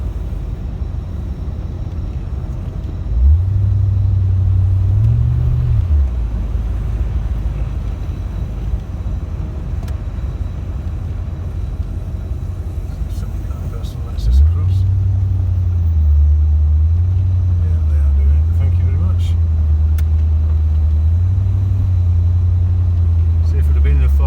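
A 1990 Corvette C4 drives along a road, its engine droning steadily near and loud throughout, with the pitch rising and dropping through gear changes around the middle and again later; talking can be heard over it.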